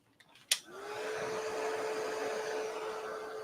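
A heat tool or hair dryer drying Distress Spray stain on a papercraft project clicks on, then runs as a steady, close, loud whirring hum for several seconds with no talk.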